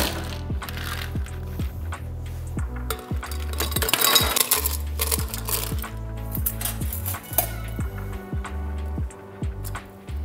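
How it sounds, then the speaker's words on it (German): A cocktail being double-strained into a chilled glass over ice, with steady pouring and repeated metallic clinks and taps of the strainer and glass throughout, while background music plays underneath and nobody speaks. "Da machen wir jetzt einen Double Strain da rein,"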